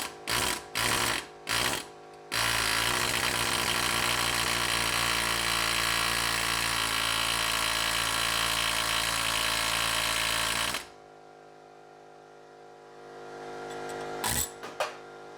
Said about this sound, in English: I'm going to take this air chisel and bap that thing out of there